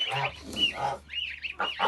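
Young geese (Kholmogory goslings) peep and honk in short bursts close by, a few calls overlapping with soft rustling between them.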